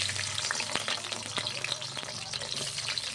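Chopped garlic and ginger fry in hot oil for a mushroom masala, giving a steady close crackling sizzle with scattered sharp pops and light stirring scrapes throughout.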